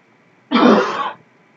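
A man gives one short, loud, raspy throat clearing with a cough-like burst, close to the microphone, alone against a quiet background.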